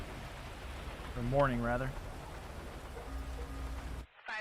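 Rain falls at night in GTA V as a soft, steady hiss beneath a man's speech, continuing until a brief cut near the end.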